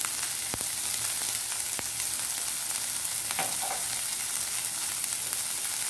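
Spices frying in oil in a pan for a poori bhaji, a steady close crackling sizzle with a few sharp pops and stirring clicks throughout.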